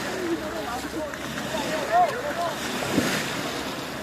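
A boat moving on the sea near Phi Phi Island, Thailand, with a steady wash of water and wind buffeting the microphone, heard close under a person speaking.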